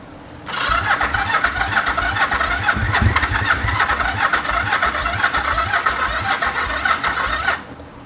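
An old Yamaha TX500 motorcycle engine, a barn find unused for about 20 years, cranks steadily for several seconds with a continuous rough churning whir, close and loud, then stops abruptly without catching.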